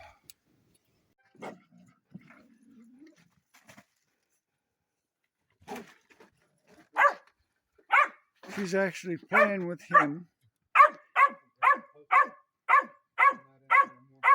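A dog barks repeatedly in a steady series of sharp, close barks, preceded by a voice speaking briefly and some quieter yips.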